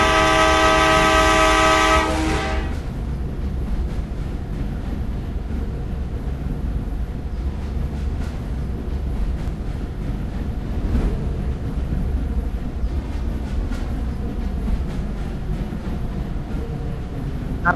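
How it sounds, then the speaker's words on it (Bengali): A train sounds a loud horn blast for about two seconds, then pulls away with a steady rumbling clatter of wheels and cars that continues evenly to the end. "ট্রেন ছাড়ে।"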